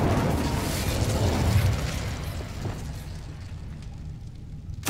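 Hogwarts Legacy spell blasts, Confringo and Incendio, erupt as a loud rumbling burst near a broken lift, fading into a low roar with a sharp crack at the very end.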